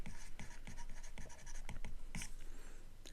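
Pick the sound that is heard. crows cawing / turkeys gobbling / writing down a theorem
writing down a theorem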